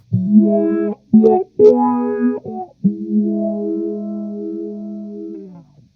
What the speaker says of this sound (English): you're going to hear that I have this modulation, a filter effect, and then a modulation phaser